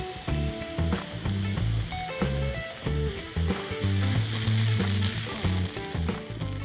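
Chopped onions sizzle as they fry for potato palya, a steady hiss of frying under loud stepped background music.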